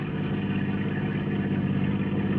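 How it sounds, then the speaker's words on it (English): A car drives up around a curve ahead on a country road, its engine a steady mid-low hum that holds close and even throughout, with no voices over it. "Another car coming around the curve ahead of us."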